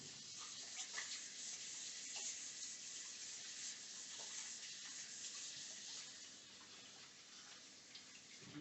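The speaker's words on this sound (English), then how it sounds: "Let me wash this off." Steady hiss of tap water running into a kitchen sink while hands are washed off during meatloaf prep, close and continuous, with a faint clatter now and then and no talk.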